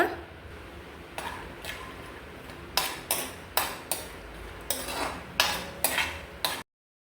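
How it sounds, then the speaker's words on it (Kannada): A spatula stirs peanuts roasting in coconut oil in a pan, giving about a dozen sharp, evenly spaced scraping clinks over a faint background, close and fairly quiet. "ಈಗ ಇದಕ್ಕೆ ತೆಂಗಿನ ಎಣ್ಣೆನ ಹಾಕೊಳ್ತಾ ಇದ್ದೇನೆ. 1 ಹಿಡಿಯಷ್ಟು ನೆಲಗಡಲೆನ ಹುರ್ಕೊಳ್ಬೇಕು."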